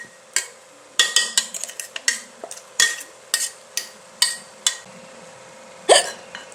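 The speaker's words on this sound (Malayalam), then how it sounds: "എല്ലാം ചേർത്തതിന് ശേഷം നന്നായി ഇളക്കി കൊടുക്കാവേ" Banana flower and red cowpea stir fry being stirred in a pan, with a string of sharp spoon scrapes and clacks against the metal at an irregular pace, close and fairly loud, with quieter gaps between.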